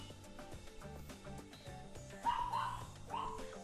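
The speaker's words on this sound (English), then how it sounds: "I ain't gonna tell my dog to shut up" A dog barks and yips in short bursts indoors, fairly close, with a couple of louder barks toward the end.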